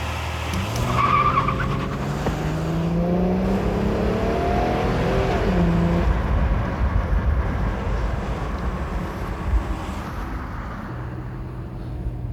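A 1989 Buick Century with its 3.3 engine accelerating hard to 100, the engine note rising steadily through gear changes, heard from inside the car with road and wind noise beneath.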